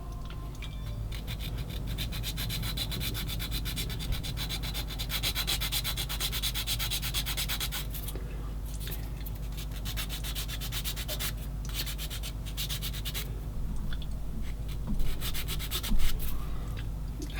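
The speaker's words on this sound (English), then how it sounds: "now we'll get the rough side of the sanding stick" Steady, continuous abrasive rubbing of the rough side of a sanding stick on a 1/16 scale plastic model tank kit, close and fairly loud, with a slight rise in intensity near the end.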